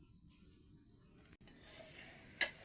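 A bhakri flatbread on a hot griddle, wetted with water, gives off a soft sizzle that grows louder in the second half of the clip, capped by one sharp hiss near the end.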